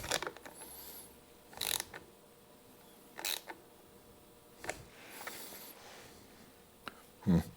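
A ratchet tightening a part on a Polaris Sportsman 700 ATV being built up, heard as several short bursts of clicking ratchet strokes separated by quiet pauses, close by and without speech.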